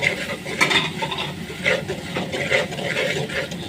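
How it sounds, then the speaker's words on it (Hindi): Green chillies are stirred into a simmering beef karahi gravy in a wok, giving repeated scraping and clattering strokes over a soft sizzle at close range. No talking. "अब हम इसमें ग्रीन चिली मिक्स करेंगे"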